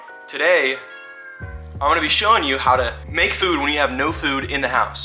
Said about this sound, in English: Excuse my cats, they're pretty loud.